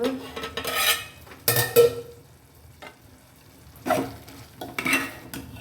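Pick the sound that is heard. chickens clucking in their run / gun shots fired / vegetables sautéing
vegetables sautéing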